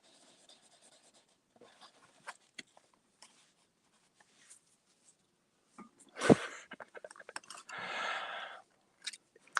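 A big crayon scratches and scrapes across watercolor paper in short bursts of strokes, some brief and some sustained, close and fairly quiet, with a louder rubbing passage near the end.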